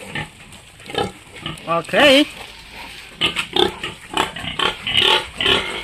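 Grower-stage fattener pigs grunt and squeal at close range while being fed a feed-supplemented ration, with repeated short snorts and a louder squeal burst around the middle, partly under a person speaking.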